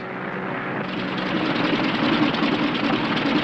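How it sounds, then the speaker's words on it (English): An aircraft engine drones steadily and roughly in flight while suffering engine trouble, a dense continuous roar that grows slightly louder, with no talking. "Engine trouble, sir."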